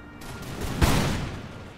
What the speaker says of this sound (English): The guards firing by rank.